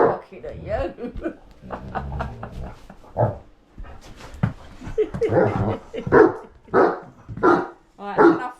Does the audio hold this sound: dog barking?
yes